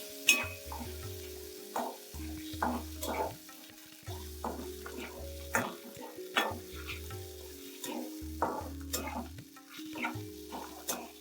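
Onion fries in a pan for a Konkani shendval vegetable dish: a steady sizzle broken by regular scraping stirs, close and loud, with no talking.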